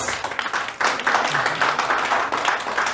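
Dense applause from a church congregation, steady clapping filling the room throughout with a brief dip before swelling again.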